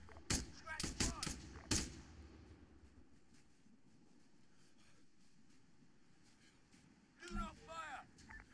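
Gunfire in the military shooter game Arma 3, with a cluster of sharp shots at the start and another short burst near the end. The shots ring out over a low ambient rumble, with radio-style voices in the background.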